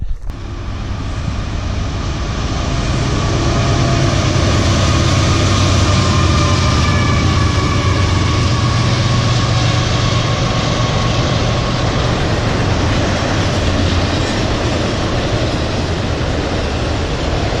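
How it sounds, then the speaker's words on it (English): Train rumbling past close to a wooded hiking trail on Pennsylvania's Mid State Trail, a loud, steady low roar of rail cars that holds for the whole stretch with no voices. "there's a choo-choo train there for you, Jackson"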